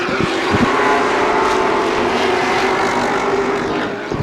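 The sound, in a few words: late model race car motor sounding sour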